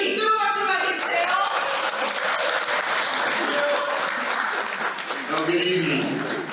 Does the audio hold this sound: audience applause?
yes